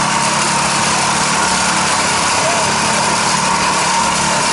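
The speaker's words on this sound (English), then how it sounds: "That's a fucking pressure washer." A pressure washer runs outdoors as a loud, continuous roaring hiss that fills the whole clip, with voices faintly in the background.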